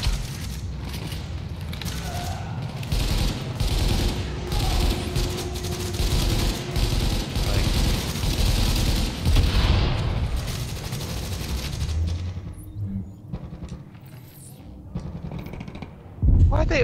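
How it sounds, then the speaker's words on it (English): Enemy gunfire in The Division, dense overlapping bursts and booms rattling continuously at moderate distance for most of the stretch, easing off near the end before a final loud burst. "They always get on top of something and start shooting."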